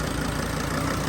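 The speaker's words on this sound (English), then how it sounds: "I'm gonna get my son to rev it." A 2003 Dodge Sprinter van engine, suspected of a boost leak and hard starting, runs at a steady, fairly quiet drone with a broad, even mechanical hum and no clear rise in pitch across the short stretch.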